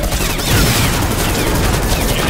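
Rifle gunfire in the VR shooter Bullet Train, set in a subway, as a loud dense burst of rapid shots running without a break, packed so closely that the reports blur together.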